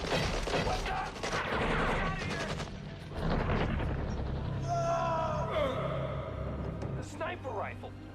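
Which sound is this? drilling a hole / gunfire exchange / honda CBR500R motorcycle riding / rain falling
gunfire exchange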